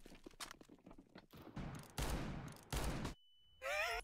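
Bursts of gunfire from a Counter-Strike: Global Offensive match, a few sharp volleys spread over a few seconds with brief gaps, loud and close, with a steady tone and some game effects near the end.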